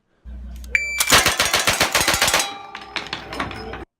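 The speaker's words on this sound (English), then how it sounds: "Just how fast could you shoot this firearm? Here's a world record." Rapid-fire .357 Magnum rounds from a rifle in a world-record speed-shooting run: a tight burst of about a dozen loud, sharp shots in quick rhythm, followed by ringing and a few scattered clicks and clatters.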